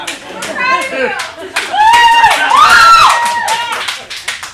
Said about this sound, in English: You are not allowed to clap.